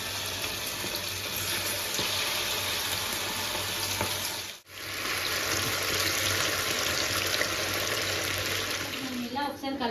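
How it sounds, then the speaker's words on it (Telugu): Chicken pakodi pieces frying in hot oil, a steady, loud broadband sizzle that runs almost unbroken, with a brief dip midway as more pieces go in. "ఇప్పుడు ఆయిల్లో మనం వేసేసుకొని ఫ్రై చేసేసుకుందాం చికెన్ పకోడీకి."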